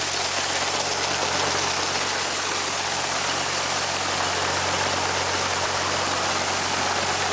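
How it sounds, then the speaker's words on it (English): Steady, loud engine exhaust of farm harvest machinery running close by, a continuous broadband roar with a low idling hum underneath that stays unchanged throughout. "Exhaust, kind of neat."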